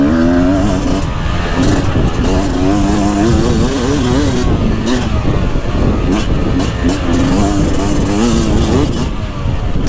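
2024 Beta 300 Race Edition carbureted two-stroke dirt bike ridden on a windy, dry, choppy GP woods track, its engine loud and close with a continuous rising and falling rev and wind buffeting throughout.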